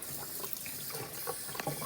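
A kitchen tap runs at low pressure into a sink, rinsing a whole turkey, with a steady close splashing wash and small irregular splatters as the bird is turned under the stream.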